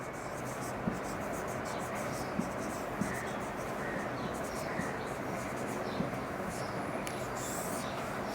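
Pen or chalk writing out an arithmetic mean method for a secondary school statistics lesson, a continuous scratchy stroke texture with small taps, steady and close over a constant background noise.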